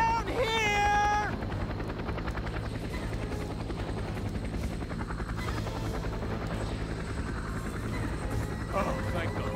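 A helicopter in the Vietnam War shooter game Men of Valor drones with a steady, loud rotor roar throughout, with a brief rising electronic tone at the start and faint voices under it.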